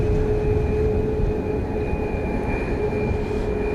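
A Southwest Boeing 737 Max 8 jet airliner at Dallas Love Field gives off a loud, steady roar with a low rumble and a faint whine above it, holding constant throughout.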